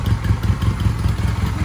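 A Honda Rebel motorcycle with dual pipes idles close by, a fast, even, loud low putter with a light mechanical clatter, steady throughout.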